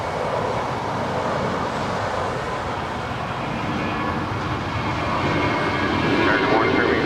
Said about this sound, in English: we got that JetBlue A320 heading to Cabo, now rolling down 25 right